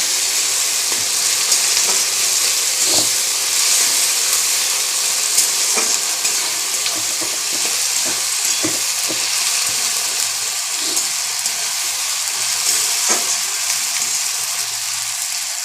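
Whole garam masala, bay leaves and hot chili spluttering in oil for chicken kosha, a steady close sizzle with scattered pops and crackles throughout, no voices.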